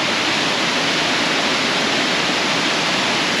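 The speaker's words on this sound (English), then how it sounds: "This is Lucifer Falls. It's 167 feet." Lucifer Falls, a 167-foot waterfall in a New York state park, roars as a steady, dense wash of falling water, loud and unbroken throughout with no voices.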